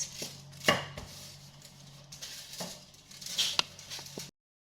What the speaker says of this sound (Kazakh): Осылай оқтаудың көмегімен оқты жұқа қылмай нанымызды жазып шығамыз